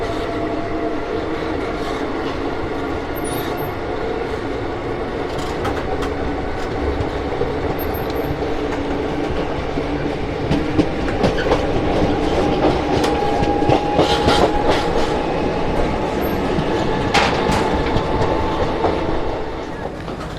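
The Shramjeevi Express, hauled by a WAP 7 electric locomotive, picks up speed with a steady rumble and rhythmic clickety-clack of wheels over rail joints, growing somewhat louder toward the end, with occasional faint voices.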